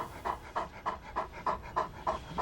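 Very large dog in the comedy film Ghost Town panting rhythmically and close, about eight quick breathy pants in a steady cycle.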